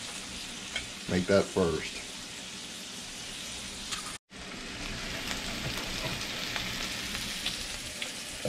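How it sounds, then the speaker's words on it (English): Bacon fries in a pan, a dense continuous crackle and sizzle heard up close, with a brief voice near the start and a short dropout midway. "Bacon's coming along nice."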